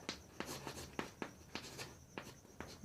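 A pen writes out a matrix transpose solution on paper, making a quiet, close scratching with short strokes repeating in a steady rhythm about twice a second.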